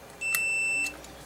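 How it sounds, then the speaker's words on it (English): A continuity tester checking resistors on a circuit board inside an old Legacy Red Series 2 LA970 car amplifier gives one clear, steady electronic beep lasting about half a second, with no talking. "That one's supposed to beep, this one don't, this one's supposed to beep, this one don't"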